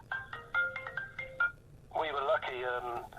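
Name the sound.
telephone ringing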